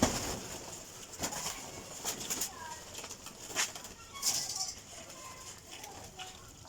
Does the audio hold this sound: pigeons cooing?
yes